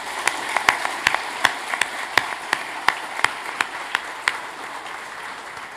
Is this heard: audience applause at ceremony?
yes